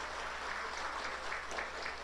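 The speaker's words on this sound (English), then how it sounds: "Give the minister another big round of applause" Applause for a government minister at a public service day awards ceremony, a steady wash of clapping from an audience that holds even and unbroken throughout, moderately loud with no speech over it.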